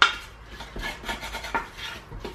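Ingredients are mixed together in a bowl, with a series of soft scraping and clinking strokes of a utensil against the container, fairly close and gentle.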